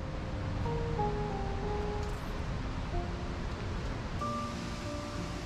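Water pours from a height at Soochipara Waterfalls in Wayanad, making a steady, unbroken broadband rush that fills the whole stretch, with faint thin tones drifting over it.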